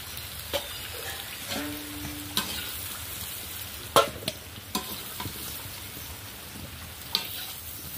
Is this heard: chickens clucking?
no